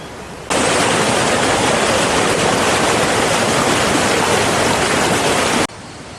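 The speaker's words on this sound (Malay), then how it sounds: "Mari kita tengok keadaan sungai" River flowing at a campground in the morning: a loud, steady broadband rush of water starts abruptly after half a second and holds evenly for about five seconds before cutting off.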